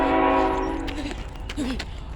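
A BNSF train horn blares loud and close with sustained harmonic tones, then fades as the train rumbles past, with faint voices in the background.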